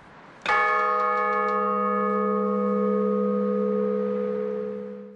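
A large carillon bell of the Sacré-Cœur church in Rodez strikes once and its deep, rich tone rings on, sustaining and slowly fading with shimmering overtones; no voices.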